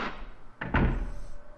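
A door in Silent Hill 1 opens with a heavy thunk followed by a deeper rumbling clunk, fairly loud and close, with no one talking.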